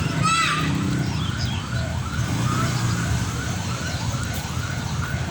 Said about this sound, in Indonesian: ini karena ada ambulan ya